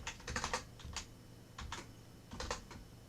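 Keys clatter on a computer keyboard in short bursts of quick taps with brief pauses between groups, close and fairly quiet, with no voices.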